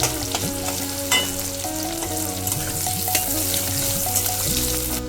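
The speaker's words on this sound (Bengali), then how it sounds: "পেঁয়াজগুলো দিয়ে ভালো করে নেড়ে ভেজে নেব লাল করে" Chopped onions fry in oil in a pan for an egg curry, a constant close sizzle broken by scraping and clinking as a spoon keeps stirring them.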